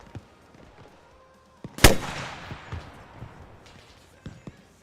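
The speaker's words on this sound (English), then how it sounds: "Firing. Rocket, rocket, rocket." A rocket launcher firing in Arma Reforger, one sharp, loud launch blast followed by a long whooshing trail that fades, with smaller distant pops before and after, over a quiet battlefield background.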